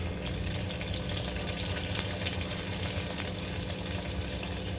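Ginger garlic paste sizzles and fries in hot oil in a pan for vegetable biryani, a steady close crackle with occasional stirring scrapes and no talking.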